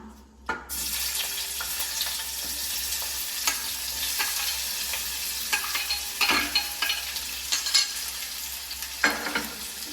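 Onions drop into hot oil in a pressure cooker for a soybean curry, setting off a sudden loud sizzle that crackles steadily with a few sharp pops and spoon scrapes, close up and without talk.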